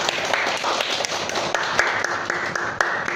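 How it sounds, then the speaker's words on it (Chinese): An audience claps steadily to welcome a speaker at an indoor talk in Singapore, a dense, continuous round of applause with a few sharper nearby claps standing out. "我们再一次我们用爱的掌声欢迎我们的甘波博士。"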